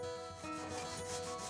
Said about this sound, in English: a sanding block levels our roads and gives a weathered look to the concrete.